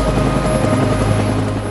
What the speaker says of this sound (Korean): 직원들이 탄 헬리콥터가 이륙하는 순간